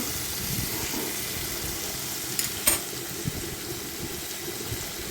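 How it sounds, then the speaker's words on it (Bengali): Potatoes fry in hot oil with salt and turmeric for a banana-flower and prawn dish, giving a steady, close sizzle throughout with a brief clatter of stirring near the middle. "এবার আস্তে আস্তে এক এক করে সব আলুগুলোকে ভেজে নেব নুন হলুদ দিয়ে দেব"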